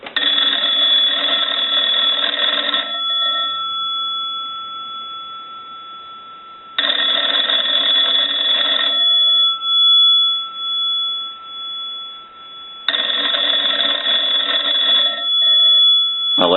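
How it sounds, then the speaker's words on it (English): Swedish American wood wall telephone ringing its bell in three long bursts of about three seconds each, separated by quiet pauses, loud and close with no talking. "we'll start a ring cycle with the analyzer"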